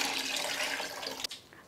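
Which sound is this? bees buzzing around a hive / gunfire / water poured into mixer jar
water poured into mixer jar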